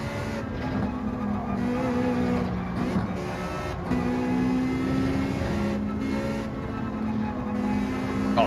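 A Ferrari Gr.4 race car drives around Suzuka in Gran Turismo 7, its engine droning loud and steady as it rises and falls through gear changes, with no voices over it.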